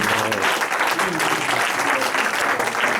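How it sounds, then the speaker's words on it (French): Congregation applauding during a prophetic ministry service in a church in Aachen, Germany, a dense, steady wash of clapping from many hands filling the whole stretch at an even level. "Acclamez Jésus"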